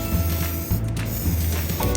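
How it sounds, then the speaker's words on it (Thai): An ATM aerosol spray paint can coats motorcycle bodywork with a dense, steady hiss, close and continuous, over a low mechanical hum, with a brief dip partway through. "พ่นด้วยสีสเปรย์ ATM สำหรับพ่นรถมอเตอร์ไซค์ ตามเฉดสีที่ต้องการ"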